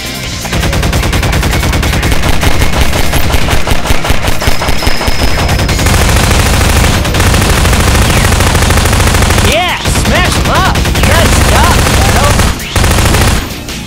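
Gun soldiers in a Shadow the Hedgehog game remade in GMod fire sustained rapid machine-gun bursts that are loud and continuous, with a few short gaps and some faint game voices mixed in.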